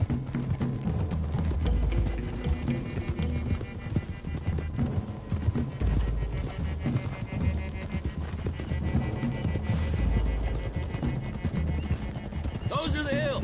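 Horses gallop in Red Dead Redemption 2, steady rhythmic hoofbeats pounding throughout with an occasional whinny, while riders talk over the hooves.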